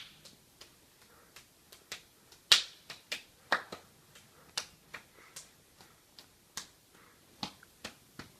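Rapid one-handed claps from a champion clapper make a steady run of light, snappy ticks, close and fairly quiet, with a few louder cracks and no talking.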